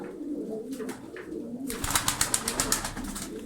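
Flying-breed pigeons coo softly in a loft, low murmuring calls with a burst of rapid fluttering wingbeats toward the end, fairly faint and close, no talk.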